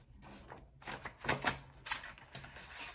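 A stiff deck of cards is shuffled up close in bursts of riffling and flicking, quick soft crackles rising and falling over a quiet room.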